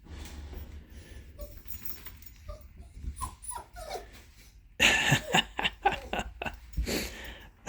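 A dog whimpers and yips softly at first, then livelier grunts and yelps follow, close by, with a brief chuckle in the background.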